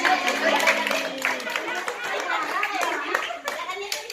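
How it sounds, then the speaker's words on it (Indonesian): A small group of mothers in a parenting session claps in rhythm, a brisk patterned hand-clapping routine close by, mixed with chatter and voices throughout. "Tepuk tangan"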